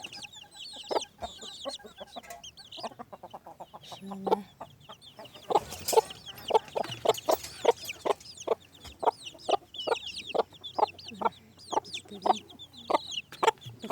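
In a garden coop, a hen clucks in a quick run of repeated calls while her new chicks peep in high, rapid chirps close by, with a brief murmur of a voice.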